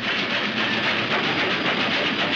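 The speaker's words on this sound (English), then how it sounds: "And now the train's going by." A train rumbles past steadily and loudly in a 1951 film, giving a dense, continuous roar with a faint rhythmic clatter that holds throughout.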